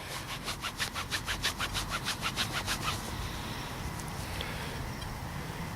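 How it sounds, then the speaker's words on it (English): A King George V Australian halfpenny is rubbed briskly on a leg, giving about a dozen quick, rhythmic scrubbing strokes close up before the sound settles into steady outdoor background noise. "Give that a bit of a rub on the leg."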